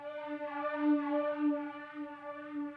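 A synthesizer runs through a modulated reverb at full depth and full wet, giving a sustained, slowly sweeping flanger-like tone with gently swelling loudness, alone and close.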